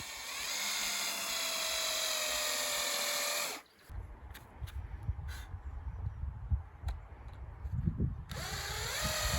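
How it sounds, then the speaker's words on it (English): A power drill bores into wood, whining steadily at high speed, and smokes as it clogs with wood; it stops briefly while rustling and handling sounds follow, then spins up again. At a farmhouse renovation in central Portugal. "The reason it's smoking is because the drill gets clogged up with wood."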